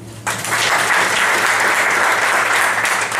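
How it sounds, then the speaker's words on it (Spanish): Applause from the audience at a talk on online store apps and online marketing, breaking out abruptly and staying loud and even as a dense clapping crowd for the rest of the moment. "un aplauso para Javi."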